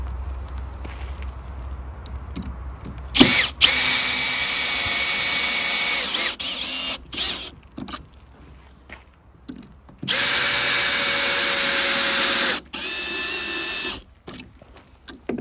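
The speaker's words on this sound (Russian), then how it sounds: "И дальше сразу же закручиваем два самореза." A screw gun drives screws into larch terrace decking in two long, loud, high-pitched whirring bursts, with several shorter bursts and clicks in between. Quiet handling noise fills the pauses.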